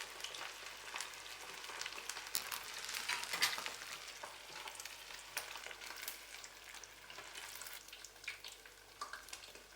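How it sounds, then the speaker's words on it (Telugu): Chicken wings in ulavacharu masala fry slowly over moderate heat in a pan, a soft steady sizzle with scattered crackles and occasional faint stirring, no voices. "జాగ్రత్తగా నిదానంగా వేయించుకోవాలండి"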